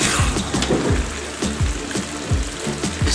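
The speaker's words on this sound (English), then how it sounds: "So I'm gonna add some more water now." Water pouring steadily into a pot of ginger pork rice being cooked, a continuous close splashing gush with a rhythmic bubbling pulse beneath.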